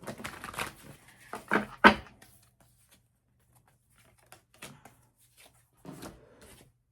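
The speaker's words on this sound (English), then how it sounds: "Let me just give you a couple of shuffles here" Crisp, papery riffling of tarot cards being shuffled, a few quick bursts close by followed by quieter scattered taps and flicks.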